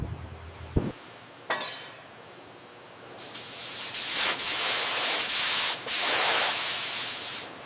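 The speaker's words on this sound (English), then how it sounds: "Holding the argon purge." A sharp burst of gas is followed by a steady, loud hiss of argon purge gas at a welding joint inside a B-2 bomber factory, cutting out briefly before resuming.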